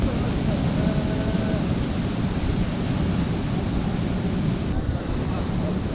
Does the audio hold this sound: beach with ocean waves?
yes